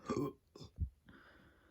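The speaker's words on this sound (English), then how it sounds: "And that was a weird burp." A short, odd burp rumbles low and close, preceded by a brief vocal sound.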